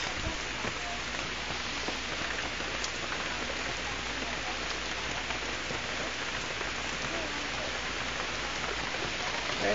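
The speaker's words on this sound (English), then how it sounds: "Second day of rain." Steady rain falls on surfaces on the second day of wet weather during a tornado warning, a dense, even patter with no letup.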